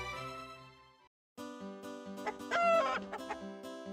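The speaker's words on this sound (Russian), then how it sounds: "Почему вечно крик петуха какой-то или курицы," A rooster crowing and hens clucking in a video game, a clear crow followed after a brief silence by layered clucks and a rising crow, crisp and up close over a sustained musical tone.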